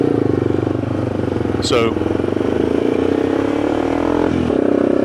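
A loud motorcycle engine revs and shifts up through the gears nearby, its pitch climbing and dropping, while someone talks over it.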